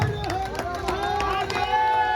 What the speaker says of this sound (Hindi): नवनीत चौबे जोरदार ताली